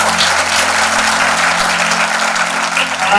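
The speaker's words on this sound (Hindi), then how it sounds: "जोरदार तालियां इस कार्यक्रम के लिए" Sustained applause from an audience at a Hindi Mann Ki Baat programme event, episode 62, filling the room as a dense, steady wash of clapping close and loud for the whole stretch, with no talk over it.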